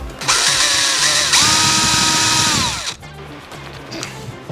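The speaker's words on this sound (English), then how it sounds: "I'm just going to drill like a small little pilot hole down through the truss rod slot" A power drill whirs loud and close as it bores a small pilot hole down through the truss rod slot of a wooden guitar neck, running steadily for about three seconds before it winds down into quieter workshop noise.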